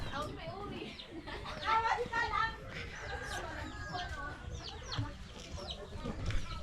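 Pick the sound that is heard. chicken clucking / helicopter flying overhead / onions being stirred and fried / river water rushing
chicken clucking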